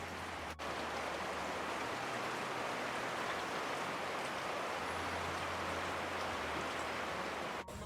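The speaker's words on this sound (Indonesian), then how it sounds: "Ini hujannya udah agak reda" Rain easing off falls as a soft, steady hiss of light drops, fairly faint and even, with a low engine-like hum underneath at times.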